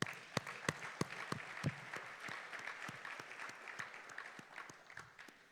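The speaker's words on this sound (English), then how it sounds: "they deserve a very big round of applause" An audience at a fireside chat with the central bank governor claps in a round of applause, starting with distinct sharp claps that thicken into a steady patter and fade slightly toward the end.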